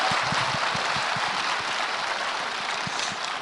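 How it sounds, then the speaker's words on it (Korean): A crowd at a political talk concert in Gwangju applauds, a broad, hissing wash of many hands clapping at once, steady and fairly distant, with no speech on top. "다시 한번 박수 부탁드립니다"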